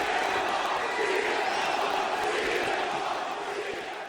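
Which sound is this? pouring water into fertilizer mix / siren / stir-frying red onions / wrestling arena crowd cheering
wrestling arena crowd cheering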